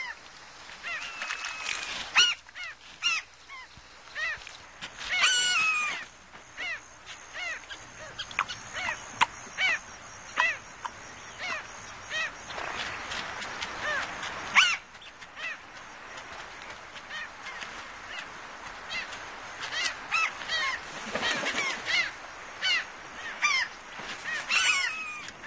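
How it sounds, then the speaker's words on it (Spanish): Flocks of birds feed along shallow river channels in Manu, Peru, with a dense, steady chorus of overlapping honking and quacking calls spread out at middle distance for the full stretch. "Los canales poco profundos ofrecen un banquete a estas bandadas de aves hambrientas."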